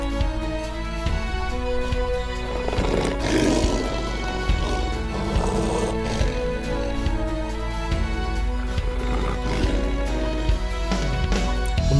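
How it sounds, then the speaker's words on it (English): A toy lion's roar plays from a safari and zoo animal toy, a loud, steady electronic growl with a swelling roar that fills the whole stretch without a break. "Lion."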